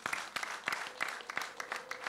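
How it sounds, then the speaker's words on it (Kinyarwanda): Applause from a crowd at a wedding introduction and dowry ceremony, a steady patter of clapping hands with a few louder claps, moderately distant and fairly soft. "Amashyi ni makeya"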